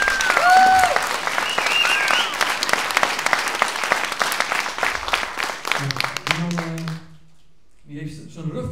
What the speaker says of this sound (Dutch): Mag ik een groot applaus voor Cisco?